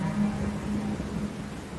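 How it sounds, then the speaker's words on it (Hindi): Rain falling with low, rumbling thunder rolling beneath it, a steady wet hiss over a deep murmur, fairly loud and continuous for the brief stretch, with no talking. "बारिशें आ गई"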